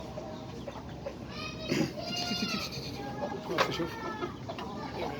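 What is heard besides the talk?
chickens clucking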